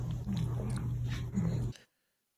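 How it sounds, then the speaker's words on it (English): Cavalier spaniels pressed under a door at a cat: soft whimpers and snuffling with faint chewing-like sounds over a low hum, fairly close, before the sound cuts off abruptly. "8 dogs all underneath the door trying to peep the cat."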